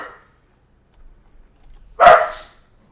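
Pet dog barking in a single sharp, excited burst, close and loud, preceded by faint shuffling and a brief voice fragment at the start.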